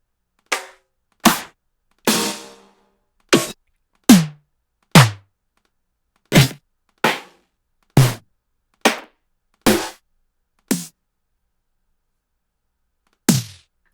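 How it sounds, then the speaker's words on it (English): Snare drum samples from an Akai MPC expansion pack play one at a time: about fourteen short, sharp, dry hits in a loose sequence, some with a brief low tail, ending with one isolated hit after a pause. "So let's listen to some of these snares."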